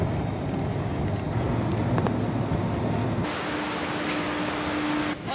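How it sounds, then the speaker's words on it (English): Strong wind on Madeira buffets the microphone in a constant rumbling roar, with a low hum underneath and no clear voices. "It's super windy."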